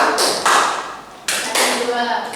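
A classroom of vocational-school students claps a counted four-beat pattern in unison, loud, dense bursts of hand claps with brief pauses between groups, close and roomy.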